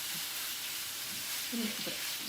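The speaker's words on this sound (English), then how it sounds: "So you just want a good sear on that." Cheesesteak meat sears in a hot pan with a steady, even sizzle and hiss that fills the whole moment, with faint murmured voices underneath.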